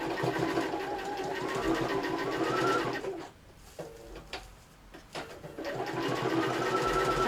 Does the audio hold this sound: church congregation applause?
no